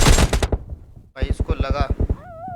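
Rapid automatic gunfire in the mobile game PUBG Lite, a loud string of evenly spaced shots, pausing briefly before a second volley, with some game effects at the end.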